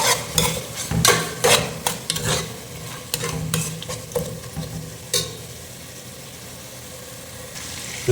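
Onions and green chillies fry in oil in a pan for mutton biryani. Loud scraping stirs and clatters over a steady sizzle come first, then the sizzling carries on alone and evenly, close by.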